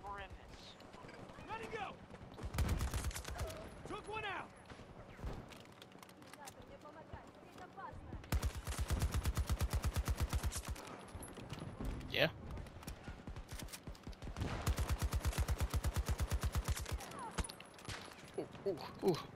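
Video game battlefield gunfire: several long bursts of rapid automatic fire, loud and near, separated by single shots and quieter stretches, with a voice talking over parts of it.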